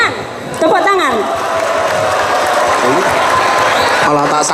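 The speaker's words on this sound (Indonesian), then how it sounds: "Tepuk tangan." Crowd applause at a religious talk by a kiai, clapping rising sharply after a moment of quieter sound, with cheering and overlapping voices mixed in, fairly loud and sustained.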